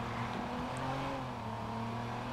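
Car engine in the video game Watch Dogs, a steady low droning hum while driving, constant and fairly quiet throughout with no speech.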